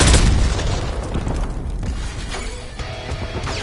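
Grenade explosion in Call of Duty Warzone, a heavy boom at the start that fades into a long rumbling, crackling tail with scattered debris-like crashes.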